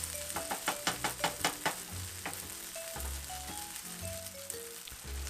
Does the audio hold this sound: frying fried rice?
yes